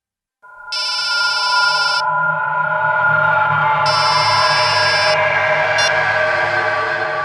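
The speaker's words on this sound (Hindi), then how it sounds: "मैडम, आपका फोन बज रहा है।" A phone rings loudly in two bursts of electronic trilling over a steady droning hum.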